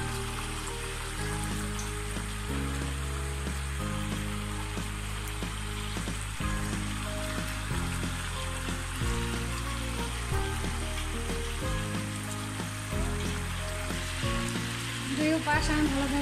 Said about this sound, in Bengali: এবার আমরা চুলার ঢাকনাটা উঠিয়ে মিডিয়াম আঁচে আবারও ভেজে নিচ্ছি।